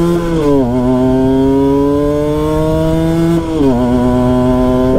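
Cagiva Mito Evo 125 two-stroke motorcycle engine ridden on a mountain road, loud and close with a steady buzzing drone, pitch dipping briefly twice as the rider shifts or eases off and then climbing again.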